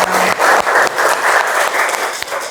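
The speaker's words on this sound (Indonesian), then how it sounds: "Tepuk tangan semuanya." A crowd claps loudly in sustained applause, with a few brief dips in intensity, no voices standing out.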